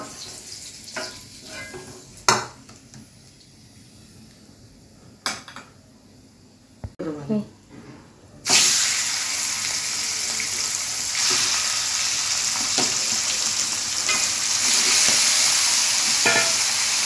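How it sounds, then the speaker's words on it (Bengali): Chicken meat frying in a pan for Bengali-style chicken kosha, alongside potatoes already fried golden; a few scattered stirring clatters give way to a loud, steady sizzle that fills the second half. "আর ওইভাবেই ভাজা করবো আর কি মাংসটা আগে।"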